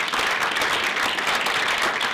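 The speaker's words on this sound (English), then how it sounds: "So a big round of applause for those guys." Dense, loud applause from a film premiere audience at a documentary festival in New York, a continuous wash of many hands clapping close and evenly throughout.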